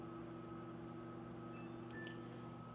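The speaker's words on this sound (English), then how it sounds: "Put that in the microwave for 30 seconds." A microwave oven runs with a steady low hum and tonal drone, faint and constant, with a few small beeps or clicks partway through.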